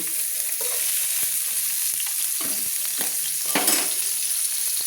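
Bata fish frying in a pan give a steady, close sizzle that runs the whole time, with scattered clicks and scrapes of stirring over it and no voices.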